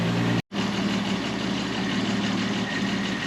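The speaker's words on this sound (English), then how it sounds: "we're going to let it sit there and idle for a few minutes, try to bring that idle down" The engine of a 50-year-old Volvo 164E idles steadily with a low, even rumble, cutting out for a moment near the start before resuming at a constant level.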